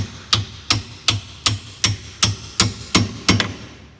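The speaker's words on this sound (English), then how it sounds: "once you've got it this far, just take your hammer" A hammer strikes a steering rack bolt on a 1987 BMW 325e in a steady rhythm, ten sharp ringing blows about every half-second, close and loud, the last two coming quicker.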